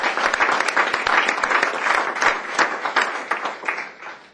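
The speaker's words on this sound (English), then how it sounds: "I'd like to have everyone give a round of applause" An audience at a school board meeting breaks into a round of applause, a steady, dense wash of many hands clapping for about four seconds, fading slightly toward the end.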